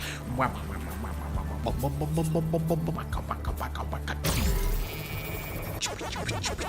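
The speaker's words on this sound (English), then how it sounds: "listen to how nice it sounds when you're printing a structure" A structure prints in Death Stranding 2 with a run of rhythmic, clucking tonal blips, then a sudden loud whoosh and a burst of rising chirps, all over a low steady game hum.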